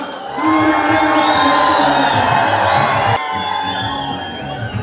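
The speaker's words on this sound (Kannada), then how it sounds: "ಹಾಗೆ ಇನ್ನೂ ಜೋರದ ಚಪ್ಪಾಳೆ" A large crowd at a Mysore public felicitation event erupts in loud, sustained cheering, whoops and clapping to welcome the Karnataka chief minister, Siddaramaiah, easing slightly toward the end.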